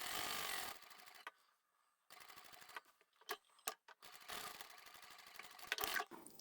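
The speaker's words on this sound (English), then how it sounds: "I'm going to sew down the short edge part way across the other side and leave an opening" A sewing machine stitches down the short edge of a handbag pocket in several bursts, quick mechanical whirring runs separated by brief pauses, close and fairly quiet.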